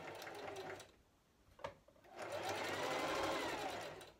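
A sewing machine stitching the seam of a fabric mask, a steady whirring run that pauses briefly, then resumes louder and continuous, close and alone.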